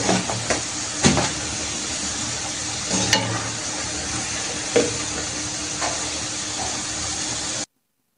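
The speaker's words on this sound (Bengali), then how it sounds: "সবগুলো তালের পিঠা তৈরি করে নিয়ে এখন ভেজে নিব গরম তেলে।" Palm-fruit pitha frying in hot oil, a dense continuous bubbling sizzle with occasional soft clinks and knocks, close and loud, cutting off abruptly at the end.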